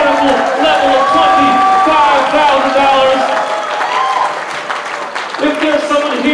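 An audience at a charity gala auction for a kids' club applauds loudly and steadily, the clapping mixed with a voice speaking over it through a sound system.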